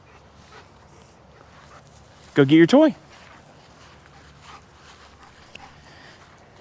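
Gunner, a dog, gives a short burst of high whimpering whines, close and loud, between quieter stretches of background noise and soft talk.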